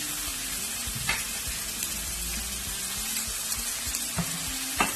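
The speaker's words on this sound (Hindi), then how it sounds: "आपको अच्छी तरीके से इसको सौटे करना है ऑयल के साथ" Ginger and garlic sautéing in oil for a Pakistani-style turai gosht, a steady close sizzle with a few scrapes or stirring clicks scattered through.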